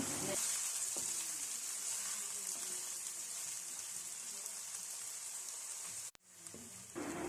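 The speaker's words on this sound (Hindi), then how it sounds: "साथ ही बारीक कटी हुई प्याज को फ्राई करूँगी" Finely chopped onions frying in oil in a pan for macaroni, a soft, steady hiss that runs evenly, cuts out briefly near the end, then resumes.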